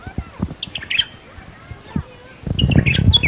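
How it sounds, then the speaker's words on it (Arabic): A white-eared bulbul, also called the Iraqi bulbul, sings bright chirping phrases in short bursts, fairly close, with other low sounds underneath and a busier burst of calls near the end. "إنه البلبل العراقي، المعروف أيضا باسم البلبل أبيض الخدين أو أبيض الأذن"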